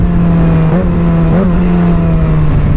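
Continuous loud drone from a Kawasaki ZX-25R motorcycle's aftermarket exhaust at idle, with two short throttle blips rising in pitch before settling back to a steady rumble.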